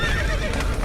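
Horses whinny in a burning stable in The Witcher 3, high wavering neighs over a dense roar of fire and hoof clatter, loud and close.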